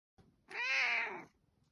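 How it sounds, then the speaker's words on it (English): A cat gives a single clear, drawn-out meow close by, after a brief soft sound and followed by quiet. "The kitty letting you know what's going on. Thank you for the meow."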